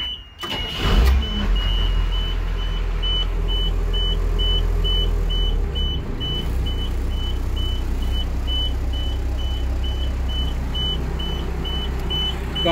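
A 1997 B800 CBC bus engine cranks briefly, then catches and settles into a steady, loud, close idle, with a faint continuous high whine above it; no talking.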